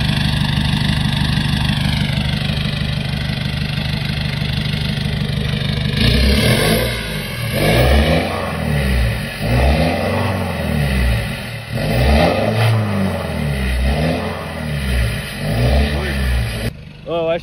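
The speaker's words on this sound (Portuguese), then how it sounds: "Vou mostrar aqui o barulho dela. Entra lá, Bia, dá uma acelerada lá." A lifted 2022 Chevrolet S10 LT pickup with a direct exhaust, loud and close, idling with a deep rumble, then revved repeatedly in strong surges that rise and fall in a rough rhythm.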